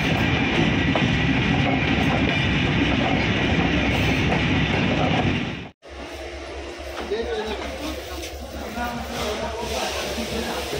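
A passenger train heading into Dhaka's Kamalapur station rumbles steadily with its window open, wheels clattering loudly over the rails. The sound cuts out briefly midway, and faint voices mix into the noise.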